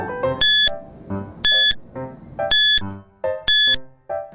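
A countdown timer plays a loud, repeating electronic beep pattern, about one cycle per second, with bright tonal pips and lower tones in between, running alone without speech.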